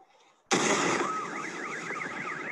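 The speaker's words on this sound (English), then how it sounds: "all the car alarms of the whole neighborhood went off at the same time" A car alarm set off by the shockwave of a meteor explosion in a Russian neighborhood, a sudden loud burst of noise followed by a warbling siren tone that rises and falls over broad background roar.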